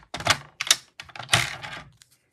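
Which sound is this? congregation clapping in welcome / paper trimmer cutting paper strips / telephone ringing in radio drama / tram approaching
paper trimmer cutting paper strips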